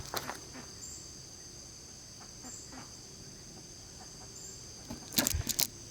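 Turkeys on a homestead farm call close to the camera, with a few brief gobbling bursts including a loud cluster near the end, over steady insect buzz and faint background hum.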